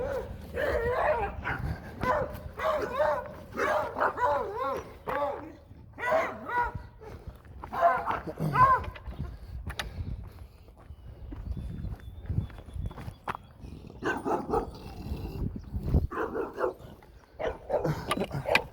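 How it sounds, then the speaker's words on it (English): Several dogs bark in repeated, excited bursts along a road near Lamar, Missouri, the yaps fairly close and clustered, with quieter gaps and faint background noise between volleys. "These dogs are crazy."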